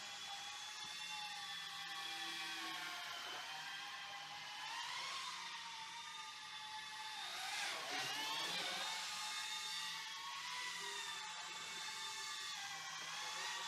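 Modster BO-105 RC helicopter flying indoors, a continuous whining rotor and motor hum that rises and falls in pitch as it maneuvers, fairly faint and close with no talk.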